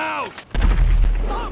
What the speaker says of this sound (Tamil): ஓகே போட்டை வெடிக்க வச்சாச்சு